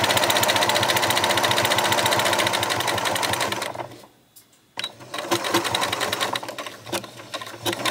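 A sewing machine runs loud and close, rattling rapidly as it stitches the seam of a fabric gift bag, pauses briefly, then starts up again at a similar fast pace.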